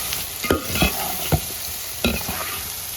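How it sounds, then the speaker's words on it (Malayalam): Bitter gourd frying in hot oil for a pickle, a steady sizzle broken by a few sharp scrapes and clinks as the pieces are stirred and scooped out, close and with no talking. "പാവയ്ക്ക നമ്മൾ വറുത്ത് വെച്ചിട്ടുണ്ട്"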